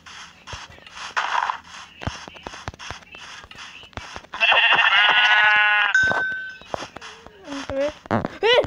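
Sheep bleating inside a survival video game: a long, loud, harmonic bleat in the middle, with clicks and game effects around it, and more short sounds near the end.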